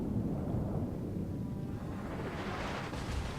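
Heavy naval guns of the Yamato battleship fire in a ranked naval warfare game, a deep rumbling boom that rolls on loud and steady for several seconds, thick low-end roar with no voices over it.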